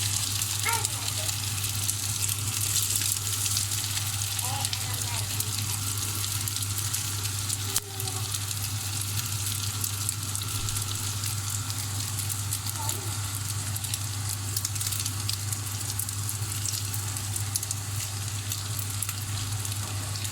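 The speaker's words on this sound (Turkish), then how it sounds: "Bu şekilde köftelerim kızarmaya devam ederken" Bulgur and minced meat köfte fry in hot oil with a steady, dense sizzle and crackle that runs unbroken throughout, close and loud, with occasional faint clinks.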